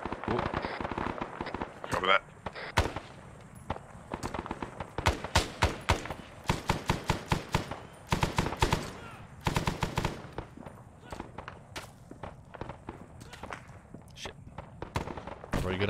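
Rapid bursts of automatic rifle and machine-gun fire in Arma 3 Vietnam, loud and near, some distant, crackling in irregular volleys throughout, with someone talking over it.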